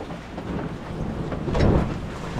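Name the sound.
rain squall with wind at sea on a sailboat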